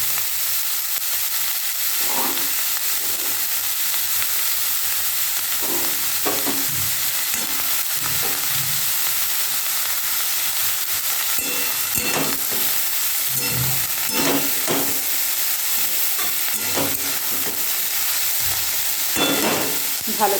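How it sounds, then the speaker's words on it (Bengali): Leftover rice is stir-fried with chopped tomatoes in a pan. A steady hiss of frying runs throughout, with scattered scraping and tossing strokes from the stirring, close up and with no talking. "ভালো করে নেড়ে নেড়ে ভেজে নেব।"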